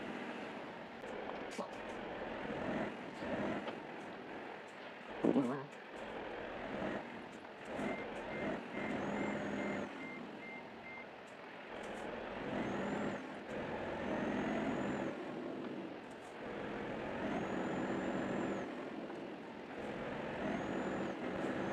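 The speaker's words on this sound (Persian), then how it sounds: "الانم استارت که ماشین خورده آماده بشیم برای رفتن" A truck engine idles and rumbles after starting in a truck driving video game, a continuous low drone with a brief air-brake-like hiss and faint tonal whines, fairly quiet and steady.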